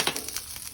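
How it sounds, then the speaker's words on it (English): Salmon skin cracklings sizzle in a pan over low heat, a soft steady crackle with faint pops, brief and alone. "But you just want to maintain a nice little sizzle."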